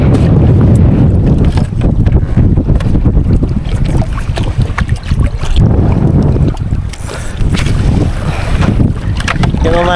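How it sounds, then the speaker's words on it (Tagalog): Strong sea wind buffets a small fishing boat, with loud, continuous roaring gusts and microphone rumble that dip briefly and then return, along with splashing water. "inabot kami ng malakas na hangin dito"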